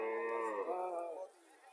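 A Friesian cow on a farm gives one long, loud, close moo that rises and falls before trailing off, heard alone without talk.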